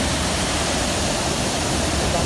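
Water rushes from the newly opened floodgates of Sukhna Lake in Chandigarh after heavy rains, a loud, dense, unbroken roar that stays steady throughout.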